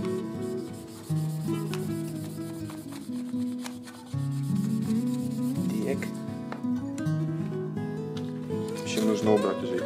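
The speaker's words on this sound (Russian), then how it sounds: "Ватный тампончик и начинаем обильно втирать." Cotton pad rubbing window cleaner into the top of a Smart Cover, a close, continuous scrubbing rasp with steady strokes over a low hum, while a person talks intermittently.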